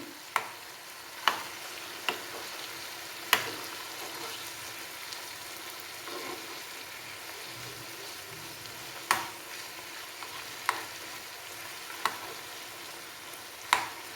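Chicken pieces deep frying in hot oil for chicken pickle, giving a steady, moderate sizzle with scattered sharp pops and crackles throughout, no voices.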